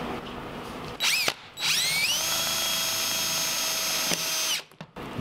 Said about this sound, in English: Use some self-tapping screws to connect the cans.